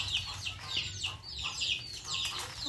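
Hungry chicks and ducks clucking and peeping in a steady cluster, close by, with small chirps overlapping throughout.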